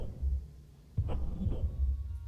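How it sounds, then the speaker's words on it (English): A strange, throbbing heartbeat sound from the video game Hyper Light Drifter: low, soft pulses repeating at a slow, uneven rhythm beneath a steady ambient hum. "There's like this weird kind of like heartbeat sound."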